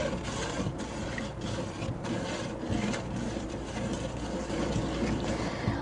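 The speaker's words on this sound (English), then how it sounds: "give that a little stir" Table salt being stirred into water in a bowl, a steady, continuous swishing and scraping, close and even in level, with no talking.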